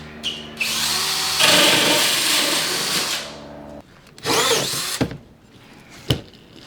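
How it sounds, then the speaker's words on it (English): A power drill whines loudly into a wall for a few seconds, then stops, followed by short bursts of scraping and a sharp knock. "I finished drilling the hole in the wall"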